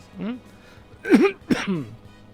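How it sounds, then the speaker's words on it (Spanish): A few rough coughs in quick succession, close and fairly loud, with a voiced throaty edge. "Perdón por la tos."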